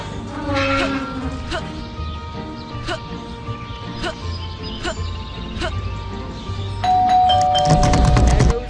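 A doorbell chimes repeatedly in the video game Scary Teacher 3D, about eight evenly spaced, ringing dings over a low background hum, ending with a louder, denser burst of sound.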